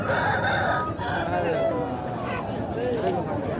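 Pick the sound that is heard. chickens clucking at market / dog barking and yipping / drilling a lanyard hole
chickens clucking at market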